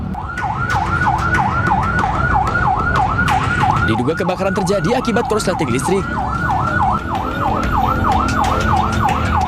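Fire engine sirens at a burning cake shop, a loud wailing siren cycling rapidly and continuously, overlapping with a second siren midway, while a narrator speaks over it.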